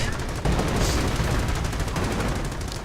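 Rapid bursts of gunfire and heavy booms crackle densely and loudly as German Panzers open fire on an M10 in a World War II strategy game, with a voice faintly present.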